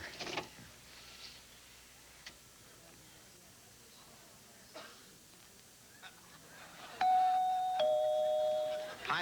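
A doorbell chime rings out loudly near the end, a sustained two-tone ding-dong played back from a video doorbell answering machine tape, following a stretch of quiet room tone with faint scattered noises.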